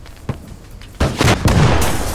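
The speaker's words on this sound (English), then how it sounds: "So many explosions." Explosions and gunfire in a video game: a sharp pop, then a cluster of heavy booming blasts close together over about two seconds.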